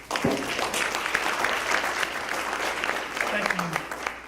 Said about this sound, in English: please give a round of applause for Congressman Dwight Evans